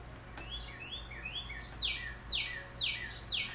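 Several birds chirp and call back and forth, a series of clear sweeping whistled notes that grow louder and more frequent, over a faint low hum.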